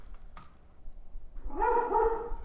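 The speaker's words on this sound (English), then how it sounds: "I'm gonna find out what my dog is losing her mind about." A pet dog indoors lets out a drawn-out, whining bark or yelp that is fairly close and moderately loud, after a quiet stretch with a faint click, with no one talking.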